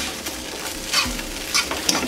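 Onions and other ingredients stirred in a pan over low heat, a soft steady sizzle with a few scraping strokes of a utensil near the middle and end, no talking.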